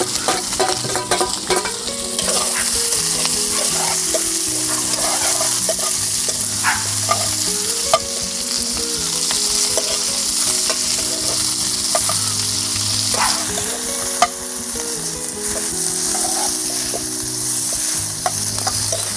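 Chana dal, garlic and dried red chillies fry in oil in a pan with a steady close sizzle, while a spoon stirs and scrapes through them with occasional clinks and no talk.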